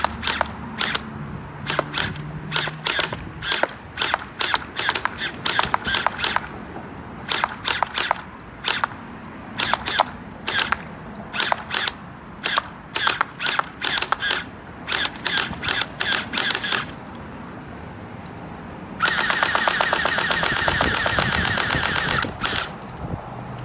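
An AK-style gel blaster fires gel balls in rapid bursts of sharp clicking shots, close and loud, ending in a long continuous buzzing full-auto run.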